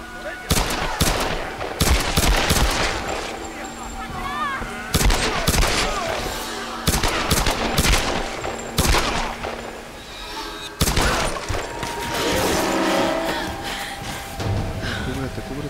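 Rapid bursts of gunfire in the video game Tomb Raider Definitive Edition on Xbox One crack repeatedly, loud and close, with short pauses between volleys, and a voice gasps and calls out between the shots.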